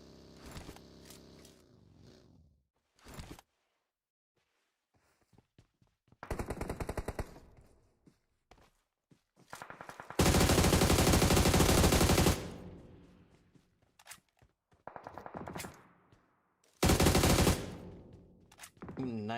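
Bursts of automatic gunfire in a PUBG Mobile scrim match, loud rapid volleys with a long sustained burst in the middle, separated by quieter gaps and small clicks.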